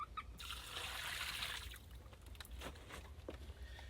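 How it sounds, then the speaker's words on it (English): Water is poured over a freshly caught carp on the bank during a carp fishing session, giving a steady trickling, splashing wash that runs for several seconds, louder at first and then fading into scattered drips. "Oh, you pour the water."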